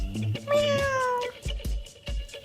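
A cat gives a couple of close meows on a beach, with the middle call drawn out and falling in pitch, between soft low thuds.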